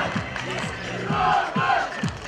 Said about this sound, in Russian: Сразу волгоградские болельщики начинают поддерживать свою команду